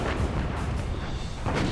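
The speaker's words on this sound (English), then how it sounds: "We were firing 10 shells at a time. 10 14-inch shells were going all over." A battleship's broadside of 14-inch guns thunders in a deep, sustained rumbling roar of heavy artillery fire, loud and continuous with no speech.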